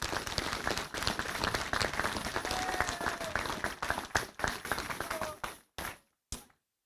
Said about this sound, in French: Je vous demande là aussi de les applaudir et de les remercier.